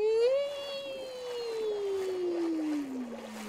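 Minecraft dolphin call: a single drawn-out whistling tone with bright harmonics, rising slightly then gliding steadily downward over a few seconds, clear and fairly loud over a soft watery background.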